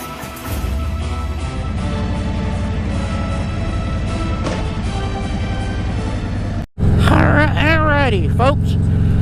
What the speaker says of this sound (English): we on the motorcycle, taking my favorite girl, Lucille, for a ride on Valentine's Day